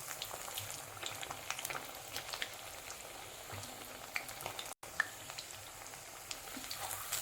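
Paneer pakoda frying in hot oil gives a steady, dense crackling sizzle with scattered sharp pops. It runs continuously, broken by a brief dropout near the middle.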